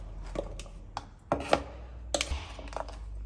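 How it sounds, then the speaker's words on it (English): Knife chopping carrots on the diagonal on a cutting board: a handful of sharp, irregular chops and board knocks, fairly close, with no talk. "it's up to you how you chop the carrots"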